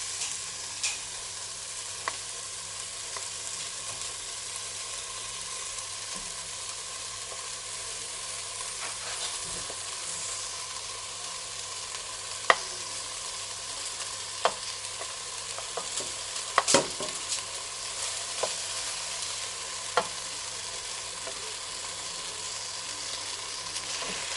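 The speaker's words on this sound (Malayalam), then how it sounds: "ഇനി നമുക്ക് വേവിച്ച് വെച്ച അരി ഇതിലേക്ക് ചേർത്ത് മിക്സ് ചെയ്യാം" Cooked rice is stirred into cooked vegetables in a pan for fried rice, giving a soft, continuous sizzle broken by occasional scraping taps of the spatula.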